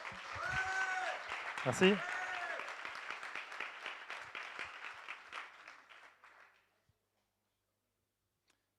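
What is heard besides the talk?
audience applause for a pitching team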